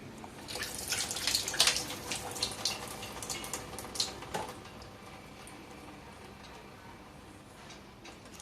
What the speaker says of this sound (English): why am I tipping out all the water out of this cache pot?